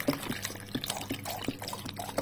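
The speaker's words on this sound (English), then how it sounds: "I think I should add some water again." Water being added to pineapple in a blender, with a run of small drips and splashes spread through the clip, close and fairly quiet, no talk.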